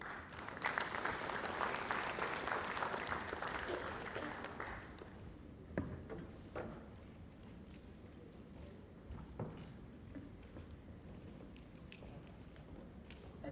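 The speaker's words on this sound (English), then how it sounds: "I think we need to clap a little better for Mr. Ngolokata" Audience applause at a conference on the Sierra Leone elections process in Freetown, a dense burst of clapping for the first five seconds that thins into scattered claps and room noise.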